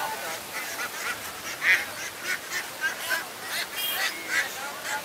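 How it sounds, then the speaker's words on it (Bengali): A crowd of ducks at a poultry market in Tongi bazaar quacks and honks in a dense, overlapping chorus, close and fairly loud, with faint voices mixed in beneath. "এদিকে হয়তো একসাথে অনেকগুলো হাঁস বিক্রি করছে, বস্তায় ভরতেছে"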